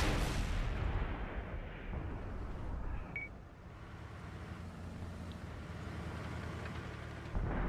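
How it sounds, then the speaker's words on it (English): A Grizzly tank's main gun firing in a competitive video game scrim, heard as a heavy broadband boom at the start and another near the end, amid constant low battle rumble and background noise, with no talk. "Grizzly firing through the little opening."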